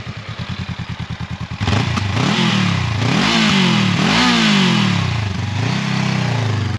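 A 2022 Honda Rebel CMX500 motorcycle engine idles with a pulsing rhythm, then revs loudly in repeated rising and falling sweeps, close and dominant with no talking.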